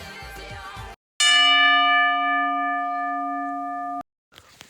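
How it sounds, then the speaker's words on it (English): A wrestling ring bell strikes once at the start of a TLC tag-team match, ringing a loud metallic clang that sustains for about three seconds after a burst of arena noise, then cuts off abruptly. "as soon as the bell rings"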